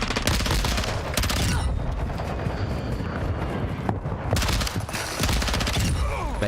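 MP7 submachine gun fire in the Call of Duty Warzone battle royale game, dense rapid automatic bursts that run almost continuously with brief breaks, loud and close.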